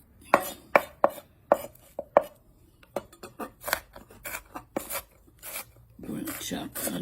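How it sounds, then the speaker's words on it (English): Onions being chopped with a knife on a cutting board, a series of crisp separate cuts in an uneven rhythm, close and clear, with scraping near the end. "We're gonna chop onions."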